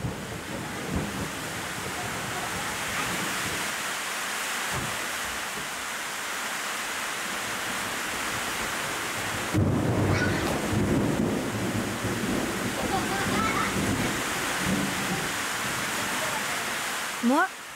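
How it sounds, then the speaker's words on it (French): Heavy tropical rainstorm in the Amazon, a steady broadband roar of pouring rain throughout, with a louder burst midway where thunder rumbles and cracks through the downpour. "il se met à pleuvoir des cordes, avec des éclairs et des coups de tonnerre fracassants qui font trembler la maison"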